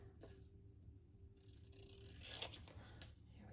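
Scissors trim a paper image for a collage notebook, a few faint close snips and rustles of paper, quiet with no talk.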